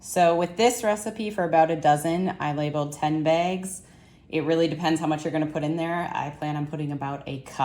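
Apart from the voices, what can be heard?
No distinct noise like a dog, phone or traffic.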